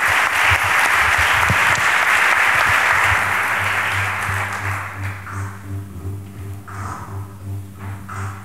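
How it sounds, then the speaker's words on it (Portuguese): An audience at a Portuguese talks event applauds a speaker with loud, dense clapping that fades over several seconds into scattered claps beneath a low musical hum. "Uma salva de palmas para ele."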